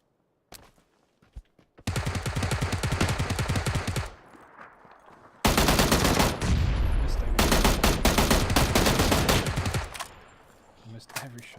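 Automatic gunfire in a PUBG match on the Miramar desert map comes in two long, dense bursts of rapid shots, loud and close, with a short quiet gap between them and a few scattered shots after.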